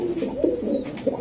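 A racing pigeon coos close by, a short throaty burbling call of a few rolling notes, loud and alone.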